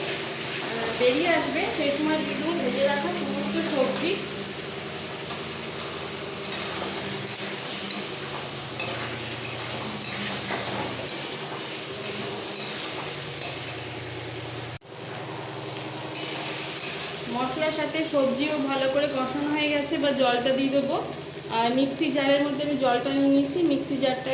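Tomato and spices frying in oil for a lote fish curry with vegetables, a continuous soft sizzle with stirring under a voice talking through much of it.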